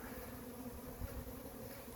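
Honey bees from a swarm buzz steadily around a hive box, a faint, even, continuous drone with a slight swell near the middle and no voices.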